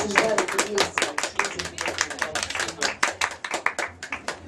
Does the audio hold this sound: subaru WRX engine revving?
no